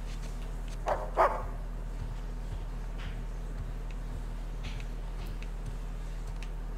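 A dog barks twice in quick succession in Uncharted 4, fairly close, over a steady low game ambience hum, then the scene stays quiet apart from faint ticks.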